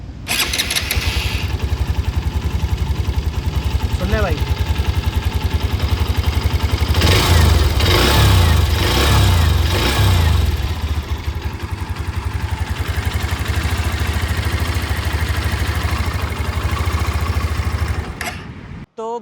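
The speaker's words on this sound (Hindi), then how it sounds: "एक बार मैं आपको ना इंजन का साउंड दोबारा सुनाता हूँ" A Hero Xtreme 125R motorcycle running on E20 fuel idles and revs steadily up close, a loud continuous engine thrum with a stronger rev swell midway and a short spoken remark near the end.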